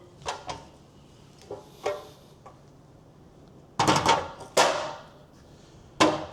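Metal rack uprights, a right and a left, being lifted out of their box, producing a few scattered knocks and clunks followed by louder, sharper bangs near the end, with no talking.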